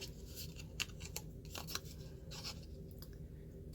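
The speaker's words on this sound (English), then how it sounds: "Now I'm going to cut it at an angle, just so that these pieces lay nicer when you go to fold it." Scissors snipping paper at an angle while making a heart candy box craft, a few quiet close crisp cuts and rustles in a near-silent room.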